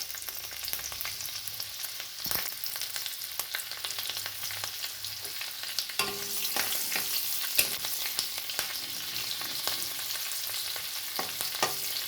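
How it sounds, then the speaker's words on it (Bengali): Chopped garlic and green chilli frying in hot oil for chilli cauliflower, a steady loud sizzle with crackling bursts and occasional stirring clatter, no voices. "তেলের মধ্যে দিয়ে দিচ্ছি আমি রসুন কুচি, লঙ্কা কুচি,"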